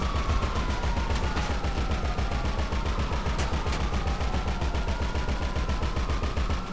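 Rapid automatic gunfire from the video game Grand Theft Auto, a dense unbroken burst of evenly spaced shots, loud and continuous throughout.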